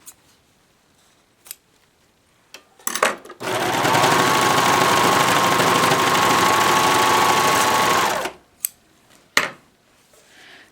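A serger stitches an elastic strap through a belt loop binder in one steady, loud whirring run lasting about five seconds, framed by soft handling clicks and fabric rustle before and after.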